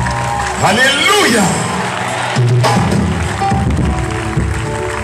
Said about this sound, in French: Est-ce qu'on peut donner des acclamations au Seigneur?